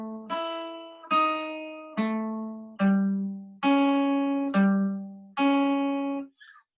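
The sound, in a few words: jazz guitar playing a chord progression exercise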